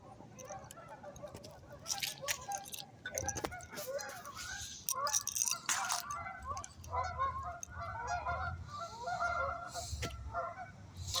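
A flock of geese honk repeatedly at close range, overlapping calls in irregular bursts over a low background rumble.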